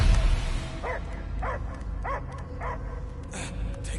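A dog in the Guardians of the Galaxy video game barks in a steady series of about six short, evenly spaced barks, close and clear over a low ambient hum.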